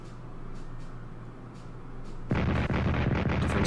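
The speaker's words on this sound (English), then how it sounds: "Defensive artillery." Artillery fire in the World War II strategy video game Strategic Command erupts as a loud burst of booming blasts after a quieter stretch of low rumble, several hits layering into a continuous barrage.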